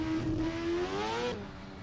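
4-rotor Toyota Supra A90 race car on a touge and competition track, a loud close high-pitched engine wail climbing through the revs, then cutting off abruptly into a crackling exhaust tail.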